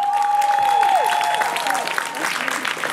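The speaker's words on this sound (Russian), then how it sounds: "Давайте встречать команду аплодисментами." An audience applauds a dance team at a dance studio's year-end concert, clapping under a loud sustained musical tone and fading over a few seconds.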